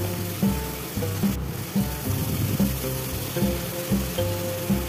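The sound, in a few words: spice mixture with sugar being sautéed in a pan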